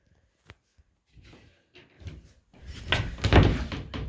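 Drawers in a rental property are pulled open and pushed shut, giving a few sparse wooden knocks that build into louder sliding rumbles and thuds nearby.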